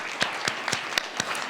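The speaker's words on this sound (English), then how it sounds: "I think that deserves a round of applause." Distinct, rhythmic hand claps repeat about every quarter second, sounding like a small audience applauding together nearby at a debutante ball.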